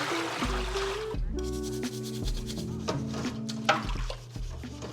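Major dishes being hand-washed in a home kitchen sink, with steady running water and irregular clinks and scrapes of pots and dishware, moderately close, no talking.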